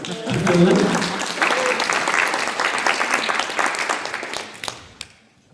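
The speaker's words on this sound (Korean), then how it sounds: "열띤 강의를 하신 최창수 연수원 교수님께 큰 박수 부탁드립니다" A lecture hall audience applauds a training-institute professor after his talk, a full, sustained burst of clapping with some voices mixed in, tapering off into silence at the end.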